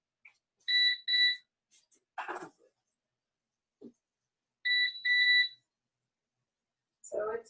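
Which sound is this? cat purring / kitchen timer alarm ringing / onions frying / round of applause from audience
kitchen timer alarm ringing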